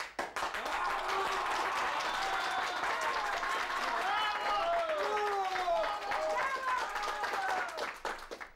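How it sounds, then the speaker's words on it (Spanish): Audience applause and clapping in a theatre during a comedy sketch, rising under an actress's voice as people talk over the clapping, with scattered claps and crowd noise continuing throughout. "¿Y esos aplausos?"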